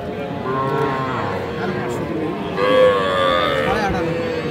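Calves low twice, drawn-out moos rising over a busy murmur of crowd noise and distant voices at the outdoor Aftabganj livestock market.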